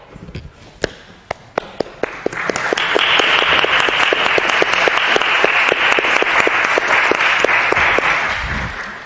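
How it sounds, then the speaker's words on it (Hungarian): Lecture audience applause builds from a few scattered, sharp individual claps into dense, steady clapping from the whole hall, held loudly for several seconds before fading at the end. "meg tudjuk őket tapsolni"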